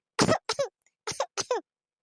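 A short burst of coughing, a few quick, harsh coughs in two clusters with brief pauses between, close and fairly loud.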